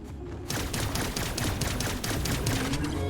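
Rapid machine gun fire from the Cygnus Enterprises video game, a dense rattling burst that starts abruptly after a brief quiet moment and keeps going loud to the end.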